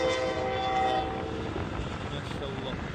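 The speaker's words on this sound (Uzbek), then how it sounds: "Poyezd ham yurar ekan." A train crosses a long bridge linking two continents, a continuous heavy rumble and rail clatter with a tonal horn-like whine early on, steady and fairly close throughout.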